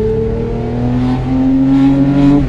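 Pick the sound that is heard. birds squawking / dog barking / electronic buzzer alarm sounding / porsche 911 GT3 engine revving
porsche 911 GT3 engine revving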